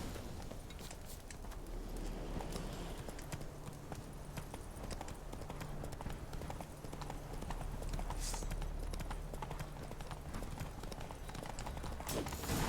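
Roach the horse trotting in the video game Witcher 3, a rapid, continuous clip-clop of hooves over a steady rumbling bed of game ambience, with faint voices now and then.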